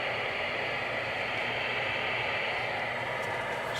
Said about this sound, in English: Not going to be able to hear anything. Nothing but static anyway.